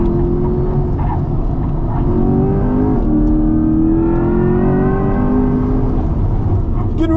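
A Chevrolet Corvette E-Ray accelerates hard with its Battery Plus discharge, its engine note rising in a steady, loud climb, briefly dipping at a shift and then pulling upward again from inside the cabin.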